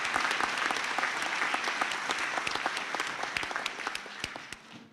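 A crowd at a graduation ceremony claps for a group of graduates. The clapping is dense and close, with distinct individual claps standing out, and it tapers off at the end.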